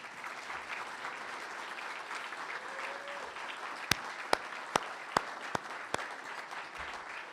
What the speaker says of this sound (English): we should have a nice round of applause for the wonderful staff of the National Press Club